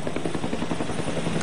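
Rapid rhythmic chopping of helicopter rotor blades at an airport helipad, a steady close thudding pulse with a broad whooshing wash.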